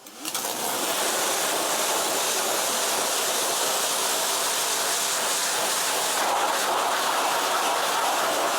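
Water sprays hard onto a car wheel during a rinse, producing a loud, continuous hiss that holds steady from start to finish with no talking.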